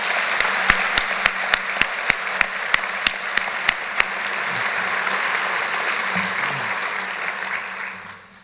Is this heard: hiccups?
no